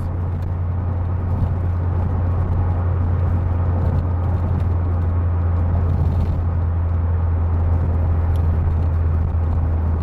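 A C4 Corvette with a freshly rebuilt transmission drives on a sunny day, its engine a steady loud low rumble with constant road noise from inside the cabin, no talk.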